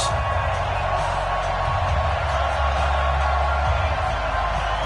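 Stadium crowd in a football video game, Denver Broncos against Chicago Bears at Soldier Field on a wet, rainy night, makes a steady, loud roar of cheering and whooping that runs unbroken throughout.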